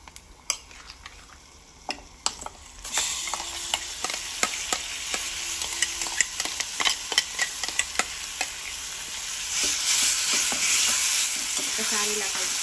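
Ground raw onion chutney stirred in a pan, with a steady sizzle and repeated scraping and tapping of a spoon against the metal, the frying growing louder toward the end.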